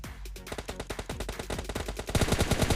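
Rapid automatic gunfire in the shooter game PUBG Lite, a fast rhythmic burst of about twenty shots that grows louder and denser toward the end.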